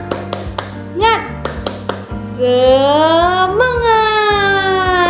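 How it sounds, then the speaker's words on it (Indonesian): Young children in a classroom lesson perform a rhythmic spirit clap chant, with sharp, patterned claps in short bursts, then a sustained sung or shouted chorus of young voices follows. "Yuk kita tepuk semangat dulu yuk."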